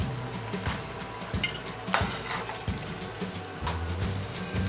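Palak gosht simmers in cream in a pot and is stirred steadily, giving a gentle sizzle with repeated scraping and clinking from the utensil against the pot, close up.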